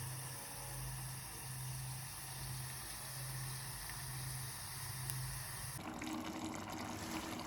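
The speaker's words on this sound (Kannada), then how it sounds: "ಪಲ್ಯ ಅಟ್ಟು ಕುದಿ ಐತಿ" Vegetable curry simmering in water in a pot on a village stove, a faint steady bubbling hiss with a low hum, shifting tone toward the end, no voices.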